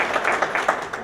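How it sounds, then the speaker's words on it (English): Short round of applause from a small business-meeting audience, a thin scatter of hand claps close by over just about a second. "please give her a round of applause"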